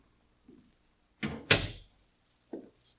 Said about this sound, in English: I opened the door for him.